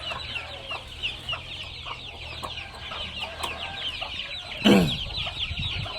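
Chickens and chicks cluck in a busy, overlapping chorus on a farm, with a sharper, louder call standing out near the end.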